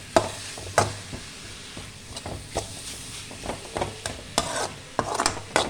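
Tomato masala stirred and fried in a pan, with repeated scraping spoon strokes over a soft, continuous sizzle, heard close up and moderately loud.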